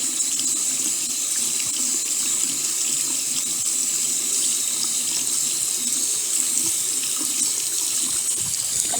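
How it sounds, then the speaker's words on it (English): Cold water runs steadily from a tap as a makeup brush is rinsed under it, a continuous close hiss and splash with no pauses. "stick it under the cold water for a minute."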